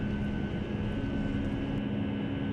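A Boeing 757-300 jet roars steadily at takeoff power in the FSX flight simulator, a loud continuous engine rumble with a constant whine and no talk over it.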